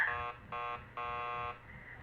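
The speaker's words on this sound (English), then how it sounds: "keep calm and ring the buzzer" In the video game Killer Frequency, a door buzzer gives three electronic buzzes, two short and one longer, each sounding alone against quiet background hum.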